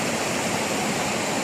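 Milk Creek, swollen after two days of steady rain in the hills below Mount Jefferson, rushes past in a continuous, dense broadband wash with no pauses or voices.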